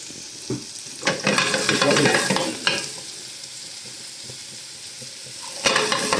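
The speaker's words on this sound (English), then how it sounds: "We'll gently fry those for a little while." Mushrooms fry in oil in a pan for a bacon and mushroom baguette, giving a close, steady sizzle. Louder bursts of scraping and stirring break in near the start and again at the end; no one speaks.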